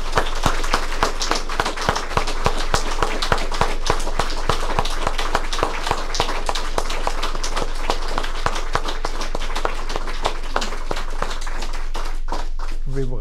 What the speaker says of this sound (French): je pense qu'on peut lui donner une chaude main d'applaudissements